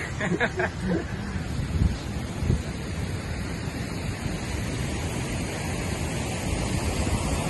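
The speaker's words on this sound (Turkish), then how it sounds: "Şuraya bakın ya kaç tane şelale var her tarafta su akıyor" Waterfalls and streams of running water in the Austrian Alps, a dense, even rush of flowing water heard from a distance, steady throughout, with brief faint sounds near the start.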